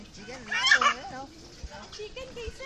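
Farm fowl gobble and cluck at a farm, a burst of bird calls rising over quiet talk and light background noise.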